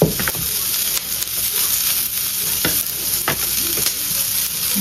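Rice stir-fried in a pan, sizzling steadily with a bright hiss and repeated scraping stirs of a utensil against the pan, close and loud with no talking.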